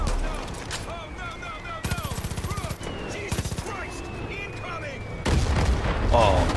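Gunfire rattles through a Far Cry 5 firefight, with bursts of rapid automatic shots and heavier booms over tense game music, loud and close, with voices speaking in between.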